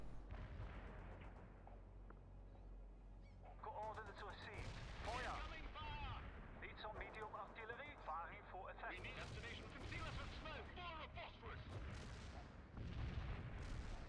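Artillery barrage in the real-time strategy game World in Conflict: repeated booming shell impacts and gunfire rumble at moderate distance throughout, with someone talking over the battle noise.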